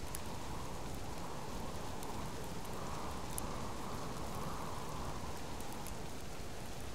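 Steady rain falls in the survival game Subsistence, a dense, even hiss of drops on surfaces that stays constant and fairly soft throughout, with no voices.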